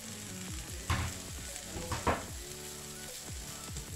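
Pork belly frying in a pan with brown sugar, a loud close sizzle interrupted by repeated sharp scrapes and stirring clatters of a utensil against the pan, with no talk.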